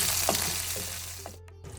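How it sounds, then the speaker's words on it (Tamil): Green chilies sautéing in a pan for tomato thuvayal, a dense continuous sizzle with a few soft stirring scrapes, close and steady, cutting out abruptly near the end. "இப்போ இந்த பச்சை மிளகாயும் நல்லா வதக்கிட்டோம்"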